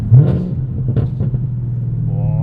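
A 2022 Chevrolet Camaro ZL1 manual coupe with an MRT exhaust that is always open lets out a deep, steady, close engine rumble, swelling briefly into revs with no talking.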